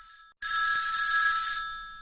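A telephone ringtone, loud and bright, sounds a shrill electronic ringing tone that cuts out briefly, then returns as one sustained burst before fading.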